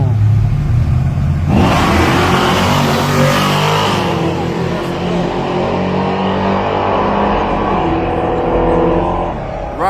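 A Mustang and a heavier Camaro with a conventional motor race side by side, engines roaring loud and close as they accelerate hard, revs climbing then holding in a sustained drone.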